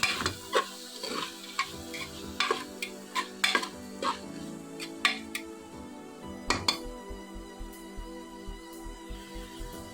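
Beetroot biryani masala frying in a pan: a low sizzle runs under repeated light scrapes and taps of a utensil against the pan, uneven at first, then settling into a quick regular tapping toward the end.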